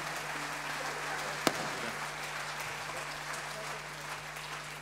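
Audience applause after a live performance, a steady, moderately loud wash of clapping with one sharp nearby clap standing out, and faint talking underneath.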